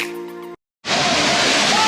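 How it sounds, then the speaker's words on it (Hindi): A small waterfall at the entrance to Bee Fall in Pachmarhi gives a steady, full rushing roar of falling water. It follows a short burst of music and a brief silent gap. "बी फॉल के एंट्रेंस में एक छोटा सा फॉल पड़ता है, यही पानी नीचे बी फॉल में गिरता है"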